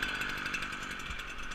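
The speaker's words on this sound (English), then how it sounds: "we're going to start off with the Stihl" A Stihl string trimmer engine runs steadily with a continuous, even, buzzing drone, close and loud throughout.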